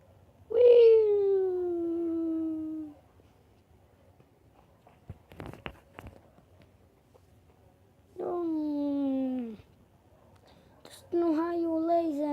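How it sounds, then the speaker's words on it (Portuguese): A kitten held by a young boy gives three drawn-out meows that fall in pitch, loud and close, with brief clattering and rustling between them. "Menino com o gatinho."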